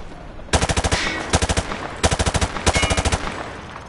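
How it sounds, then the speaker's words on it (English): In Call of Duty Modern Warfare 2 Remastered, a gun fired from the hip lets out four loud, close bursts of rapid automatic shots separated by brief pauses. "He sprayed bullets all over the damn place."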